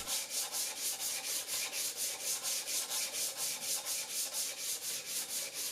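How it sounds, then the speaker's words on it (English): Steady rhythmic rasping of 220 grit sandpaper rubbed back and forth over wood, even strokes at a brisk pace, close and moderately quiet with no talking. "I did a final sanding on the wood with 220 grit sandpaper."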